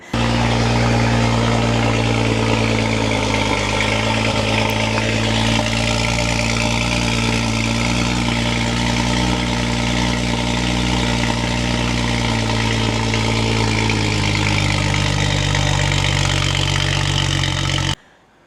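A BMW 135i with its stock exhaust idles steadily and loud at close range, a constant low rumble with no talk, then cuts off abruptly at the very end.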